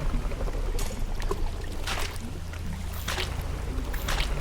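Crab pots dropped into the water in the fishing video game Dredge, with several close splashes roughly a second apart over a continuous lapping water and boat-hull ambience.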